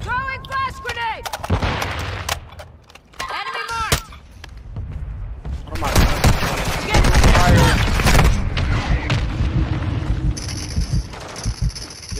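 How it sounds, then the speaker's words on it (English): In a shooter video game, a flash grenade and gunfire ring out in loud, sharp bursts, including rapid volleys and heavy impacts, with game sounds and shouted voices in the mix. "Throwing flash grenade!"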